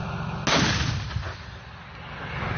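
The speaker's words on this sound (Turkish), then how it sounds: "Bölge top atışlarıyla vuruldu." A single artillery shot during a military operation in the Afrin region: a sudden loud blast followed by a rolling rumble that slowly fades away.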